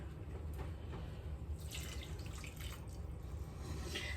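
Water running from a tap into a cooking pot for a white bean tomato stew, a steady continuous splashing stream that carries on through the whole stretch at an even level with no voices.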